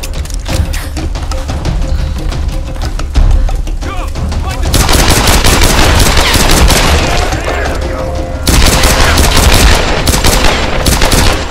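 Gunfire in the Tomb Raider video game as enemies are shot with headshots: dense, loud bursts of shots and impacts running almost continuously, rising in intensity partway through and again near the end, with no talk over it.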